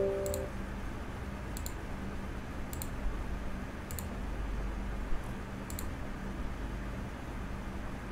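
A computer mouse clicks through a software installer, about six crisp, isolated clicks spaced a second or so apart over a quiet, faint background hiss.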